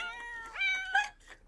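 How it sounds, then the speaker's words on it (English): A cat meows in The Sims 4, a clear rising and falling synthetic meow lasting about a second over faint background game ambience, with no talk. "Now the cat's all in the food."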